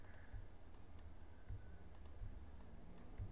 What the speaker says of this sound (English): So let's press the Alt key here.